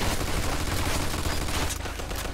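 Sustained automatic machine-gun fire in Mafia 2, a dense, continuous rattle of shots at moderate level, without pauses, across the whole short stretch.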